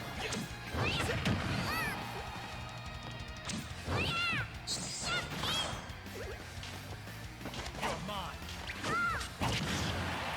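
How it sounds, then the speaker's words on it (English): Smash attacks in a competitive Super Smash Bros. Ultimate match, a series of heavy crashing hits and whooshes with ringing impact tones, mixed with game sounds and crowd noise. "Spookypoop doing a nice smash attack to take Siggy off the stage"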